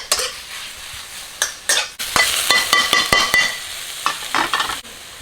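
Fish sauce hitting a hot pan, a loud close sizzle broken by rapid metallic scrapes and clanks of a spatula stirring against the pan.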